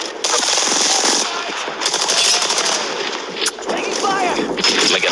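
Rapid gunfire in Apex Legends on PS4, loud automatic bursts crackling close with short gaps, mixed with game effects and some voice.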